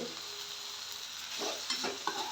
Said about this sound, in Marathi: भाजी ढवळून घेते चांगली